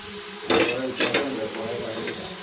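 A spice mixture fries in a pan with a loud, steady sizzle while a spoon stirs it, adding a few clanks and scrapes against the metal. Close by, with no talking.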